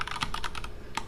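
Quick, light keystrokes on a computer keyboard while coding, a rapid run of clicks close by that stops for a moment and then comes back with one more tap.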